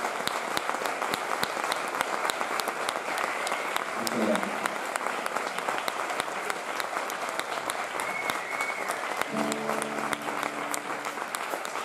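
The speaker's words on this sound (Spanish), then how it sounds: "un fuerte aplauso para..." A concert audience applauds loudly and continuously for a band in Granada, a dense, steady wash of clapping with a few voices rising through it.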